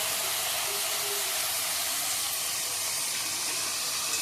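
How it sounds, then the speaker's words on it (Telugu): Sliced, washed mushrooms, about half a kilo, added to onions frying in a pan give a steady, even hiss of sizzling and steam that holds unbroken throughout, with no talking over it. "ఇప్పుడు మనం వేసుకున్న కడిగి పెట్టుకున్న మష్రూమ్ని దీనికి జత చేయాలి"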